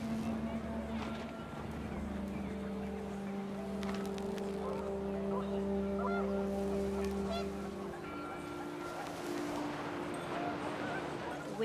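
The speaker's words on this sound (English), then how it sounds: "The wind picked up, and panicked geese appeared and quickly went." Panicked geese honk in the video game What Remains of Edith Finch, several calls overlapping over a steady windy, droning background for a sustained stretch.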